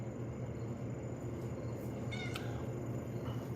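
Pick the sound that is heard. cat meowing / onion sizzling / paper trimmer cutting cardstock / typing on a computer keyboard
cat meowing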